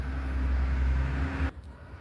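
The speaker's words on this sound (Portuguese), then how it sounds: "eu dei uma pausa aí pro caminhão da feira passar, que o barulho é cruel" A market truck rumbles past at close range with a loud, heavy low roar that cuts off abruptly partway through, leaving only quiet background.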